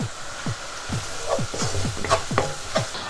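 Onions fry with salt in a pan, giving a close, steady sizzle with a run of quick scraping strokes from stirring and a few brighter crackles.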